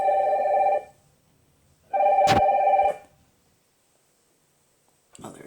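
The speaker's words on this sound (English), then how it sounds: "I don't know why my phone started ringing in that direction." Mobile phone ringtone ringing in two bursts, a steady tonal melody of about a second each separated by a pause, fairly loud and close, with a sharp click in the second burst and a brief noise at the end.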